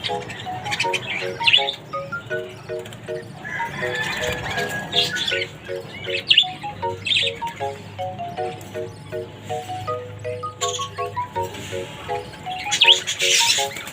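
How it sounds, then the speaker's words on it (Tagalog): Bird fledglings chirping close by in a cage, with thin repeated high peeps in quick bursts, alongside someone speaking and some handling noise. "ang ganda ng mga inakay guys"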